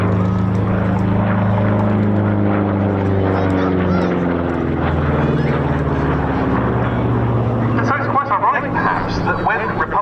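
A Republic P-47, a heavy single-engine propeller fighter, drones loudly and steadily at an air show, its deep engine tone shifting slowly as it passes, while someone talks over it.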